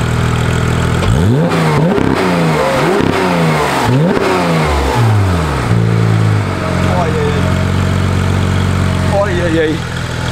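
A loud flat-six engine in a Porsche 991.2 GT3 revs hard several times in quick succession, rising and falling sharply, then settles into a steady idle with brief blips.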